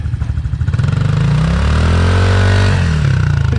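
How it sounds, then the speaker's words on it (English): A Yamaha YZ65 dirt bike engine revs hard during a burnout, a loud close buzzing drone that climbs and holds high before dropping back, with pulsing exhaust throughout. "Liam's gonna do a burnout on Tyler's bike."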